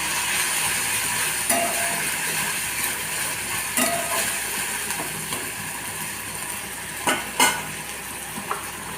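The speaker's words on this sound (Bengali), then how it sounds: "আদা পেঁয়াজ রসুন বাটা ভালো করে এখন তেলের উপর নেড়ে নিচ্ছে" Ginger, onion and garlic paste stirred in hot oil for a prawn malai curry, a steady close sizzle with scraping spatula strokes and a few sharper clinks against the pan.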